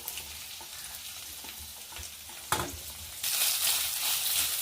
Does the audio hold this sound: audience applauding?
no